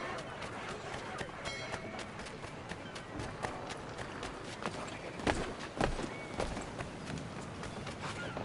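Muffled galloping of horses in Assassin's Creed III, a dense, continuous rumble of hooves with scattered thuds, steady and moderately distant throughout.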